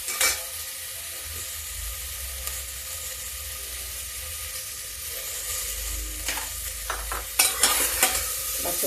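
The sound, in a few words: potato and bean vegetable curry cooking in a pan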